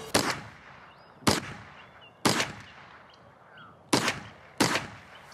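Five sharp gunshots from a self-reloading hunting rifle crack out at uneven intervals, each loud and abrupt with a short decaying tail, fired outdoors during a hunt in the Wairarapa.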